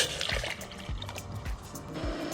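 Water pours into a pot on an MSR camping stove, a quiet liquid splash and trickle with a few soft low gulps and drips, close by and without speech.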